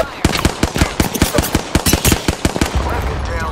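Automatic gunfire in the Apex Legends video game comes as a rapid, loud, close string of shots that spreads across the whole stretch and fades into lingering noise at the end.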